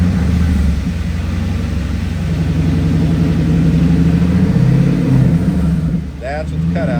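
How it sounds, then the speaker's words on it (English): A 2000 Pontiac Firebird's engine revs with its exhaust cutouts open, giving a loud, deep, rumbling exhaust note that rises and swells steadily at close range, then drops off near the end. "Now I'm going to give you a taste of the exhaust cutouts."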